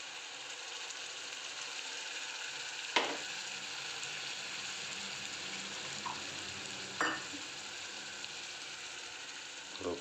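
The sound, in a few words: puree being added and stirred in a sizzling pan for palak paneer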